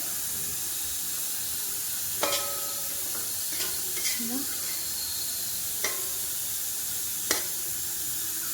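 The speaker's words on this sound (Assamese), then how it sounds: "এতিয়া মই মাছখিনি গেছত বহাই দিলোঁ।" Fish simmers in a little water in a pan on a gas stove, making a faint steady hiss with occasional small pops and clinks, heard close and quiet.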